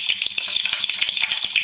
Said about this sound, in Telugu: ఆయిల్ హీట్ అయిన తర్వాత మనం చికెన్ పీసెస్ని యాడ్ చేసుకొని మంచిగా ఫ్రై చేయాలి